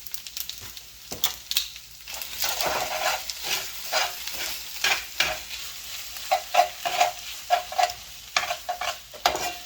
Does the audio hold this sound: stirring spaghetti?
yes